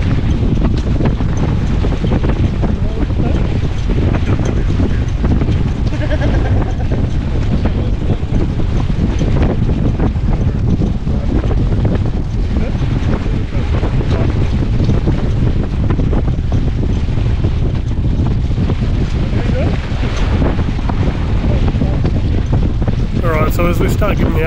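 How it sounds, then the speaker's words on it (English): Strong wind of around 25 knots gusting over a sailboat heeling on a lake, roaring steadily and loudly against the microphone, with water rushing and sloshing against the hull throughout. "Like we start getting more and more up towards the 25 knots of wind, probably gusting higher than that."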